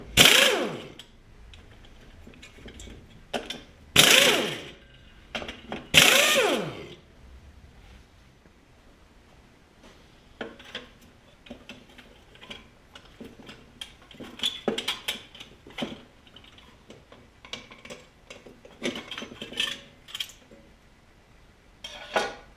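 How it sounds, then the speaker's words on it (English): Work on an 8 hp Briggs engine as its cylinder head is removed: three loud, sharp bursts of an air tool early on, then scattered light metallic clinks and clanks of parts and tools nearby. "Alright, we're taking the head off the easy way."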